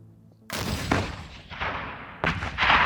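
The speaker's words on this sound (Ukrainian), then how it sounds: "Постріл з РПГ-7." A single RPG-7 grenade launcher shot bursts out with a sharp loud blast, followed by rolling echoing booms and a further crack, heard alone without speech.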